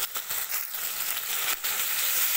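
Spice paste with salt and turmeric sizzles in a hot pan for banana flower curry, a steady close frying hiss with a few brief stirring scrapes, no talking.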